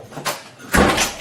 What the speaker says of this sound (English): Why are you banging on my goddamn door?